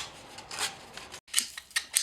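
A smooth finishing file scraping gently across the brake caliper guides of a VW Golf 5, short light rasping strokes in a quiet workshop, with a brief pause between passes.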